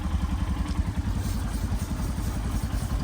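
Motorcycles idle nearby before a ride near a border crossing, making a steady low rhythmic engine putter that stays loud and continuous throughout.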